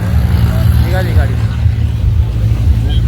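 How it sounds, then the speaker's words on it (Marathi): A car pulls away near Baga Beach in Goa after being stuck, its engine rumbling steadily close by while voices talk and call out over it. "निघाली गाडी."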